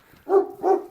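A French bulldog gives two quick, close barks in a row, short and punchy with a brief gap between them, heard clearly against a quiet background.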